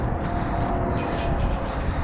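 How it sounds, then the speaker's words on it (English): Road traffic near Russell Road, heard from a trail at Whitney Mesa Nature Preserve, rumbles as a steady, fairly loud drone with a passing vehicle hiss. "You can hear the traffic."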